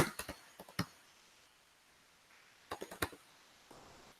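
Keys clatter on a computer keyboard in two short quiet bursts of typing separated by a pause, close and without any talking.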